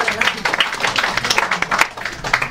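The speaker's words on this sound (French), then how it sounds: "on peut applaudir quand même" An audience at a talk on Roman dining breaks into a short round of clapping, crisp and fairly close, with irregular claps rising and falling over a couple of seconds.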